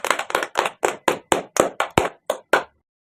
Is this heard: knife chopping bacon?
no